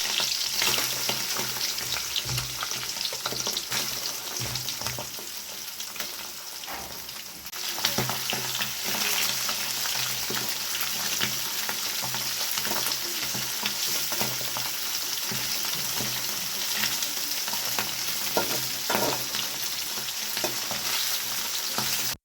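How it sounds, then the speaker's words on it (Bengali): Small tengra fish frying together in a pan, a dense continuous crackling sizzle with bursts of spattering and occasional stirring, close and steady with no talking. "মাছগুলো সব একসঙ্গে ঢেলে দিয়েছি, একসঙ্গে দিয়ে ভাজা করে নেবো।"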